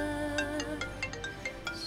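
A phone ringtone plays a quick, bright melodic pattern of short repeated notes, fairly quiet and alone with no talking during a TV drama scene.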